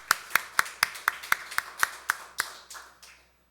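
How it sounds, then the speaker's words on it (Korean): A congregation at a Korean church Sunday service claps in unison, about a dozen crisp, evenly spaced claps that ring out in the hall, then slow slightly and fade into silence. "박수로 하나님께 영광 돌리겠습니다."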